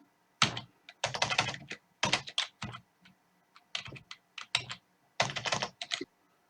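Fingers type on a computer keyboard in short bursts of rapid key clicks, close and clear, with brief pauses between the clusters and no talk.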